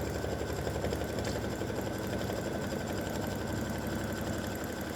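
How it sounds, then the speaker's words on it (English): An embroidery machine stitches a design at a slowed speed of 600, giving a steady, dense mechanical whir with rapid needle clatter that runs continuously and close by, with no talk. "I did slow my machine down a little bit more to 600"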